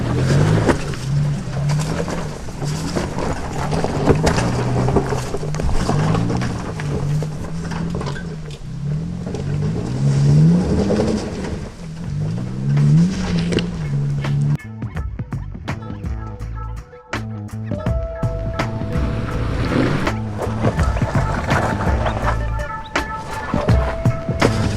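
Exhaust of a Toyota off-road truck at an off-road park in Gilbert, Minnesota, its engine revving up and down in repeated rising and falling sweeps, fairly loud and close, with faint voices in places.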